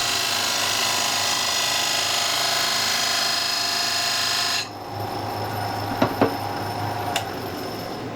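A small wood lathe turns the inside of a wet oak plant pot, giving a steady, loud broadband whir and cutting noise that stops abruptly partway through, followed by quieter room noise with a few sharp knocks.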